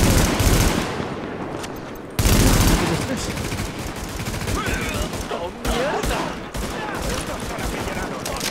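Gunfire in the video game The Division, dense rapid bursts and volleys rattling on continuously through the whole stretch, loud and close, with a sharp cut and restart partway through.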